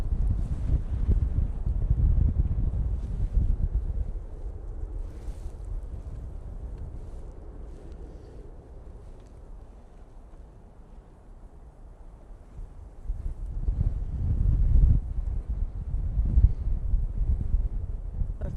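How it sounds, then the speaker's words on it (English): Wind gusts across the open ground at Manchester Airport, a low rumbling buffet on the microphone that swells loudly at first, eases in the middle and builds again, with no voices. "It's getting windier again."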